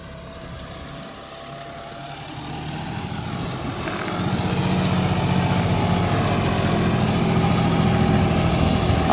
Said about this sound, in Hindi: 50 HP का ट्रैक्टर है 5210।